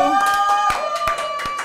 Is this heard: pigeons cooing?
no